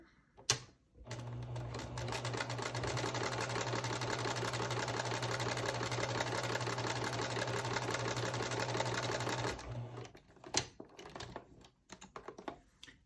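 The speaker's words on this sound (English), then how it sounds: "take it over here to my machine, sew those together" Sewing machine stitching quilt fabric pieces together, a steady fast mechanical whirring hum running for about nine seconds, with brief clicks and handling noise before and after.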